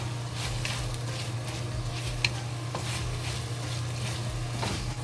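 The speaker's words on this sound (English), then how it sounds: "We add the yellow lily flower and the blackwood ear mushroom to it." Pork stir-fried with yellow lily flowers and black wood ear mushrooms sizzles steadily in a hot pan, with a constant loud hiss, low hum and occasional scraping stirs and light taps.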